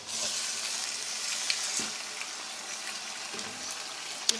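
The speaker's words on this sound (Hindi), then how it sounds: "अब हम इसमें अपनी जो है वो चिकन डाल रहे हैं।" Chicken frying in a pan after ginger paste for chicken biryani, a steady close hiss of sizzling oil with occasional faint clinks and stirring knocks, with no voices.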